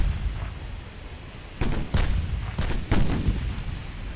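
Naval gunfire in the Ultimate Admiral: Dreadnoughts warship game, 14-inch guns firing in a ragged salvo of four or five heavy booms in quick succession over a low rumbling background.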